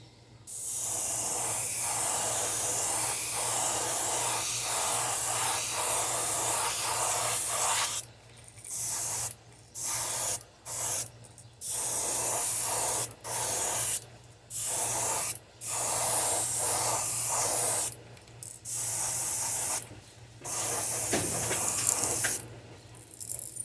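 Air compressor-driven paint spraying onto fishing baits during a big bait production run: a steady close hiss for about eight seconds, then a long series of short, regular spray bursts separated by brief gaps, with a low hum underneath.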